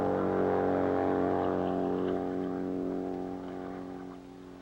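A steady engine drone from a racing motorcycle speeding at the 1951 Bonneville National Speed Trials, holding a constant pitch before slowly fading as it moves away.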